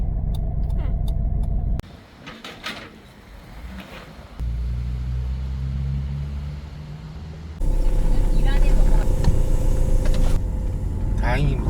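A rough, rumbling engine of a 30-year-old car idles and revs unevenly, loud and close, with a heavier surge near the end and some voice traces underneath.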